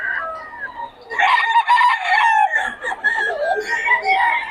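Roosters and chickens at a fowl dealer's place crow and cluck together in a loud, close, continuous chorus of overlapping calls.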